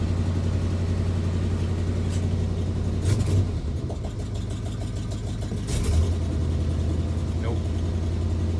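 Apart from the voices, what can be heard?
1988 Chevy R30 truck engine cold start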